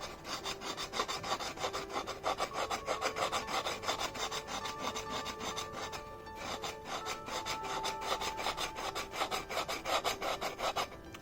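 Steady back-and-forth rasping of sandpaper on the wooden handle of a penhold table tennis blade, close and continuous with a regular scrubbing rhythm, no talk.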